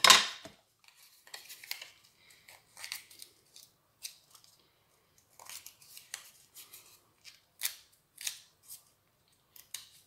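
Scissors snip through soft, pliable paper for a handmade jute-canvas card, a series of close, crisp cuts and slight tearing sounds in irregular bursts with short pauses, no talking.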